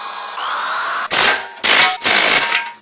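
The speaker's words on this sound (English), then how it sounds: "Now time to drill some more" Electric drill boring holes in aluminum sheet for a custom heat shield: three loud, close bursts of high grinding whine, each about half a second, after a steady quieter hum, with no talking.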